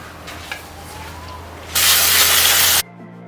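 Aerosol spray paint on VW GTI brake calipers: a single loud, close, steady hiss lasting about a second, cut off abruptly, after quieter handling noises.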